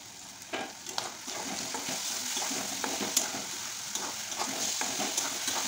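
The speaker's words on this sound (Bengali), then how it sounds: "তারপরে দিয়ে দিচ্ছি পরিমাণ মতো লবণ আর সামান্য হলুদ। আবারও একটু নাড়িয়ে চাড়িয়ে নিচ্ছি।" Ridge gourd frying in oil as salt and turmeric go in, with a steady close sizzle throughout and scraping stir strokes at irregular intervals, no voices.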